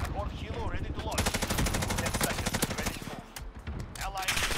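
Rapid automatic gunfire from a Bruen MK9 and other weapons in a Call of Duty: Modern Warfare match, dense bursts of shots close by, continuing almost without pause.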